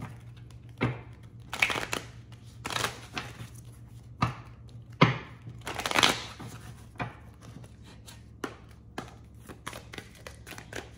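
Angels and Ancestors oracle cards by Kyle Gray being shuffled by hand, a series of soft, scattered riffling and flicking bursts with quiet gaps between them, close up and faint overall.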